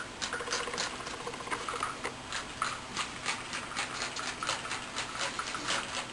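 A cheap dollar-store hand sprayer mists plain tap water over a model railway layout in a series of quick, faint hissing spritzes, each one short and close, with no talking.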